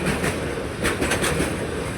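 A long train passes at Thane, a loud continuous rumble with rhythmic clickety-clack of wheels on rail joints, close and steady throughout.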